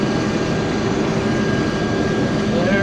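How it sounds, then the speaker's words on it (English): A farm airplane passes low over a wheat field during harvest, a steady loud engine roar and rush of wind filling the whole stretch without a break, with no talking. "Right there is the Smallville Farmer airplane"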